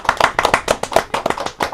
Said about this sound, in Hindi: एक बार जोरदार ताली होनी चाहिए फॉर किंग